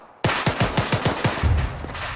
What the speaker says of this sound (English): There's a fucking machine gunner over there shooting at us.